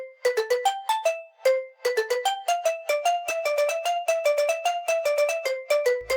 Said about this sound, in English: This is gonna work as like automating the reverb on and off.